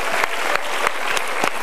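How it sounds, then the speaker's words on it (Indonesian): Studio audience applause on an Indonesian motivational talk show: dense, steady clapping that fills the whole short stretch, with no voices over it. "kita berikan tepuk tangan"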